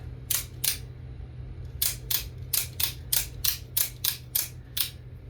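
Sharp mechanical snaps of an American-made OTF knife with a black PVD-coated MagnaCut blade, two then a rapid series of about nine, each a crisp click of the spring-loaded blade firing and retracting, over a low steady hum.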